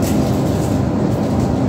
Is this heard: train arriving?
yes